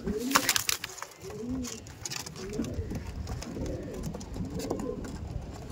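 Andhra Madrasi competition pigeons in a loft give repeated low, rolling coos in a steady rhythm, close by, with scattered clicks and rustles and some faint background voices.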